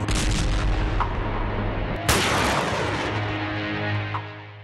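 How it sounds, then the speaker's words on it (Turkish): Heavy artillery shelling of towns in the Karabakh conflict region, with a dense rumbling barrage and one sharp loud boom midway, continuous and close. "Berde, Ağcabeti, Koranboy, Terter ve Adam şehirlerine yoğun top atışı gerçekleştirildiği ifade edildi."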